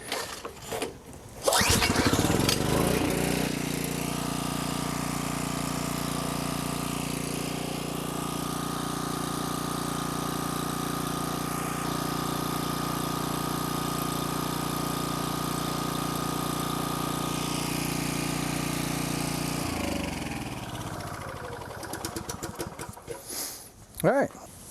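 An old Homelite 1800W generator, unused for twelve years and set at half choke, cranks and catches. It runs at a loud, steady drone for about eighteen seconds, then winds down and stops.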